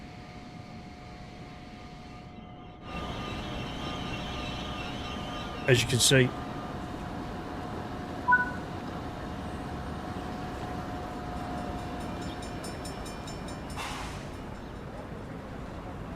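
A train in the Train Sim World 6 simulator on a US rail route runs with a steady, loud rumble, marked by a brief sharp squeal and a short clank, while someone speaks briefly.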